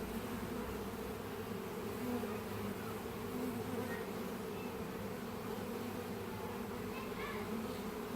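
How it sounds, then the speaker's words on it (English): A steady, dense buzzing of many bees swarming close by around a hive, a continuous low hum that holds at an even level throughout with no voices. "just listen to the bees when they're buzzing about like this"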